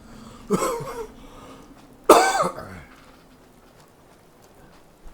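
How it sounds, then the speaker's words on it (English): Two close, sharp coughs, about a second and a half apart, against a quiet background, in the video game Fallout 4. "when I turn my head and cough, I'm not looking where I'm going"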